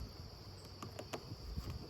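A steady, faint insect-like hum with a high whine, joined by a few soft taps and rustles; the buzzing of honeybees close by while a bee package is installed in a hive, without talk.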